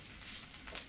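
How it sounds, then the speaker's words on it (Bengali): Grated bottle gourd fries in ghee with a steady, close hiss of sizzling, plus a few soft stirring crackles near the end of this brief moment. "ঘিতে ভাজাটা প্রায় হয়ে গিয়েছে"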